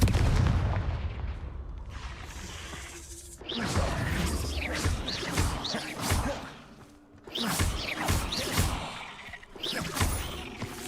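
Confringo blasting spells go off in a Hogwarts Legacy fight, making repeated loud, punchy explosions with whooshing bursts in irregular succession. Close booms and crashes crowd together, and short quieter gaps come between volleys.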